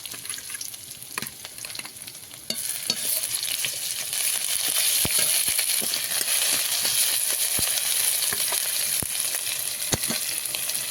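Ginger and garlic paste fried with browned onions in a pan, a quieter hiss that jumps into a louder, dense sizzle as the paste goes in, with sharp utensil taps against the pan, no talking.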